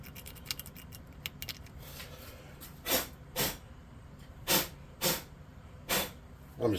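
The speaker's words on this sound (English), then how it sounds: "I'm just blowing off excess glue and baking soda to make sure everything dries well." Short bursts of air are blown across a tabletop RPG Gorgon miniature to clear off excess glue and baking soda, a series of about six close puffs in an irregular rhythm after some faint scratching.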